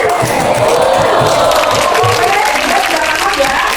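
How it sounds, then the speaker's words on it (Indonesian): A group in a classroom claps and cheers for a team of students, a loud, close burst of mixed clapping and voices that continues without pause. "Kasih tepuk tangan untuk kelompok."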